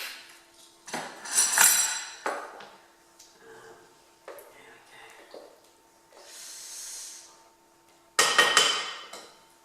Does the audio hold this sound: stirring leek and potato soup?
yes